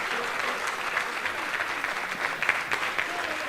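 Audience at a comic-book conference in tribute to Carlos Pacheco applauds steadily, a dense wash of many hands clapping continuously at close range with no pauses.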